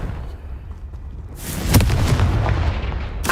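A Confringo blasting spell explodes in the game Hogwarts Legacy, a sudden loud burst with a crackling, rumbling tail after a quieter stretch, followed by a second sharp hit at the end.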